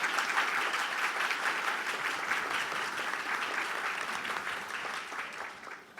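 Audience at a tax law congress panel in Brazil claps steadily in honor of the congress's honorary president, a fairly faint, even wash of applause that tapers slightly toward the end.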